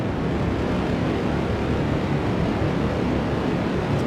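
Steady, dense roar of a couple of spark rocket engines on a slightly unbalanced rover in Kerbal Space Program, holding loud and even from start to finish with no breaks.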